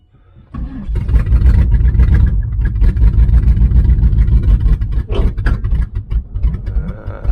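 Engine of a 1996 Pontiac Trans Am with no spark that starts and runs roughly but fails to rev, a loud, close, uneven low rumble that surges and sags for several seconds.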